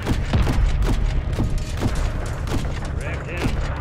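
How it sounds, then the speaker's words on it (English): Missiles slam down in a Call of Duty: Modern Warfare III battle around a hangar, a rapid string of loud booms and cracking impacts mixed with gunfire, dense and continuous over rumbling low end, with voices calling out beneath. "Missiles incoming."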